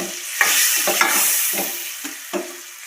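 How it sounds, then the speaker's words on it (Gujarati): A spoon stirring spice masala with lemon juice and powdered sugar in a hot pan for dry potato bhaji, about five scraping strokes at a slow rhythm over a soft sizzle, close and alone. "હરખુથી મિક્સ કરી લેશું"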